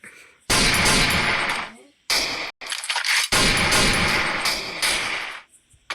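Bursts of gunfire in the Free Fire video game during hide and seek, loud rapid volleys in three main stretches broken by short pauses, with faint voices in the background.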